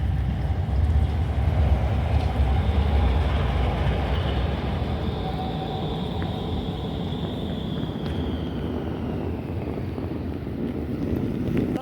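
A steady, heavy rumble of a passing train with wind noise, continuous and fairly loud, with a faint high whine drifting across it.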